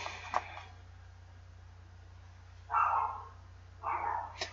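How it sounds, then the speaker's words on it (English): A pet dog barks indoors in short bursts, a few yaps near the start and then two louder, longer bark bouts later, over a steady background hum. "Sorry if you stupidly hear a dog barking."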